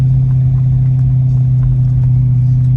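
A Ferrari race car engine idles loud and close on an airstrip while its tires warm up, holding a steady deep droning rumble with no pause for the full stretch.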